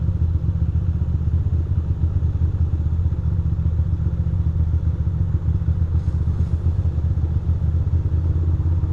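A motorcycle engine runs steadily while riding on a commute, a constant close low rumble with dense clattering pulses and no speech.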